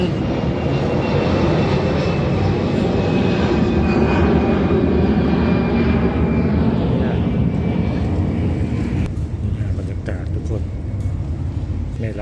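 A fixed-wing airplane passes overhead near a Chiang Mai market gate, a loud steady engine roar that fills the clip and eases slightly toward the end, with a voice talking underneath.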